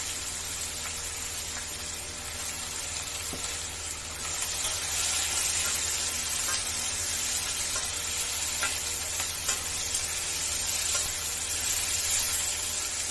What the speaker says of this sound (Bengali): পেঁয়াজগুলো একদম লাল লাল করে ভাজতে হবে